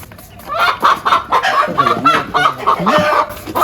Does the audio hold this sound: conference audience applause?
no